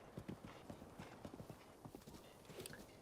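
Horse hooves clip-clopping in the video game Zelda: Breath of the Wild, a quick irregular series of soft clopping thuds that runs steadily throughout at moderate loudness, with no voices.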